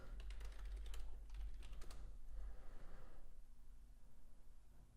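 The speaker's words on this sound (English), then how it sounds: "If you hear typing, that's just me making alerts in the community that I offer." Quick bursts of clicking keystrokes on a computer keyboard for about two seconds, close by, then fading to a quiet room hum.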